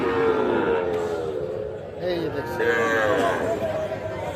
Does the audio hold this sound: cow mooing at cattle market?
yes